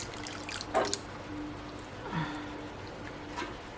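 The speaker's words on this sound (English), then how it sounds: "we're gonna make a little slurry and then pour it in" Thickening slurry pours into tomato bisque soup in a home kitchen, making faint trickling and dribbling liquid sounds with a few soft splashes, quiet and close, with no talk.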